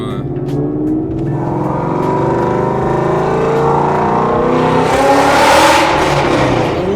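A loud, deep V8 engine of a 2016 Ford Mustang 5.0 with headers, injectors, tune and cold air intake revs up and swells into a throaty roar, rising in pitch and intensity toward the end, close by.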